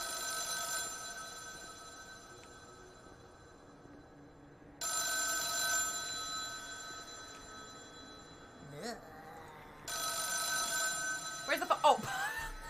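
An old 1930s-style telephone in a horror video game rings in three separate bursts of metallic bell trilling with quiet gaps between them, close and clear, and a voice makes a few brief vocal sounds near the end.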